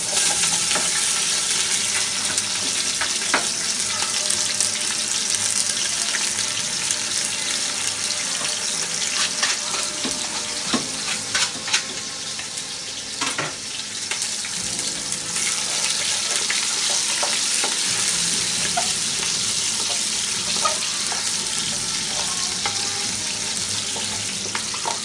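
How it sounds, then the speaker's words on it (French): Onion sizzles steadily in hot oil in a home kitchen pan, a loud, continuous crackling hiss lasting throughout with occasional louder pops and stirring clinks, no talking. "On a l'huile avec l'oignon qui est en train de mijoter."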